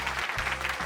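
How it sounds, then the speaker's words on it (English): Football crowd cheering and clapping in a stadium, a dense, steady roar of applause and voices lasting under a second. "Crowd goes wild."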